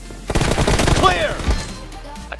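M416 rifle gunfire in the video game BGMI, a rapid burst of crackling shots up close during an intense squad battle, mixed with voices talking in the game.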